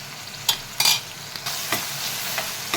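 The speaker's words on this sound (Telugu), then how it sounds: "మనం దోసకాయ వేసుకున్నప్పుడు మధ్య మధ్యలో కలుపుకుంటూ ఉండాలండి." Cucumber curry (dosakaya) frying in a pan and being stirred, with a few distinct scraping stirs and bursts of sizzle over a steady frying hiss, no voices.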